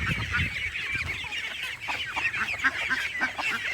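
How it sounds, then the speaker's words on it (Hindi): A crowd of chicks and ducklings on a farm keep up a dense chorus of high cheeping and peeping, close and continuous, with no one talking. "ये वाला चूजा सबसे छोटा रह गया"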